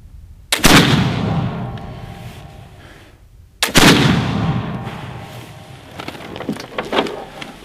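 Two loud, close muzzleloader rifle shots firing Hornady lead round balls, each a sharp blast with a long rumbling decay, about three seconds apart; faint rustling noises follow the second shot.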